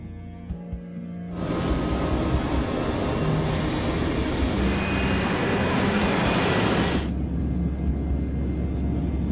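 Concorde jet engines roar on a cockpit recording during takeoff, a sudden dense, loud rush that holds steady for several seconds and then cuts off abruptly, with faint ticks before and after.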